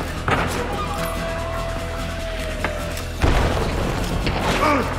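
A grenade blows up in the game Hunt: Showdown, landing as a heavy boom about midway after a few scattered thumps and clanks, followed by rumbling debris and faint voice-like sounds.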